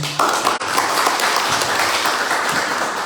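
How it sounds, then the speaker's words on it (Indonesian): A large audience at a gathering bursts into loud, sustained applause, dense clapping that starts abruptly and continues evenly for several seconds. "Sekali lagi tepuk tangan untuk semuanya."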